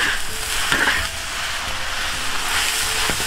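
Lettuce stir-fries in a hot wok after going in with onion, soy sauce, oyster sauce and dark soy sauce, giving a steady loud sizzle with scraping stirs throughout, no talking.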